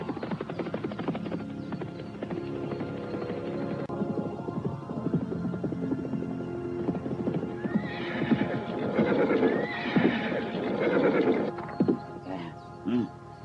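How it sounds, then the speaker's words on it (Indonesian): Two horses galloping into a small village, steady clip-clop hoofbeats with occasional whinnies, growing louder and nearer toward the end amid an old Javanese-style period setting. "dipecahkan oleh langkah 2 ekor kuda yang menggemuruh memasuki batas desa kecil itu"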